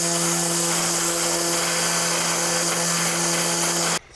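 A Husqvarna 525iLXT battery line trimmer runs at its second power level, a steady loud electric whine with a constant hum and whirring line noise, cutting off sharply near the end.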